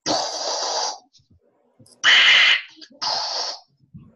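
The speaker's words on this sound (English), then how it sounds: "pink noise might sound like this." Three bursts of broadband hiss, each about a second long, separated by short silences, steady and fairly loud.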